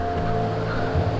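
Steady rushing water of a river flowing beside a mountain village in Bakun, Benguet, a continuous broadband wash with low hum underneath and no speech.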